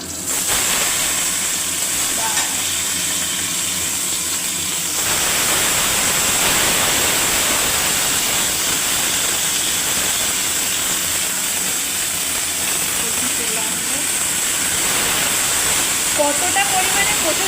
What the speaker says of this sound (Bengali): তেজপাতা, কালো জিরে ফোড়ন দিয়ে দেওয়া হলো।